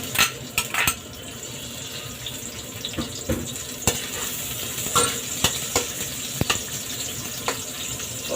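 Sliced onion and garlic sautéing in oil in a pan, a continuous sizzle broken by sharp clinks and scrapes of a utensil stirring against metal.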